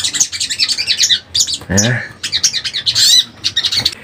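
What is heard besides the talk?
sunbird calling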